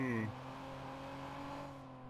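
Sports car engine in the video game Watch Dogs, a rising revving whine with steady harmonic drone, moderately faint, a brief voice at the start.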